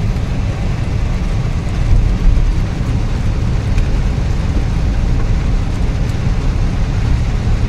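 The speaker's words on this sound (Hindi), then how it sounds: "साथ ही बारिश स्टार्ट हो गई है" Rain falling outside an airport in Islamabad, a dense steady hiss mixed with low rumbling traffic noise, loud and continuous without pauses.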